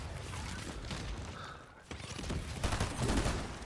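Rockets fire and explode during a Fortnite match, a rough burst of blasts and rumbling booms that dips briefly before a second heavier round, all fairly close and loud.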